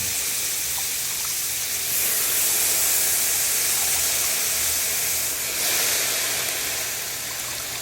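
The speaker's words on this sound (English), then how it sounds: "Now we can begin adding our washed greens to this, and we're gonna cook it down." Washed collard greens cook down in a pot with a steady steamy hiss and sizzle throughout, fairly faint with slight swells and no talking.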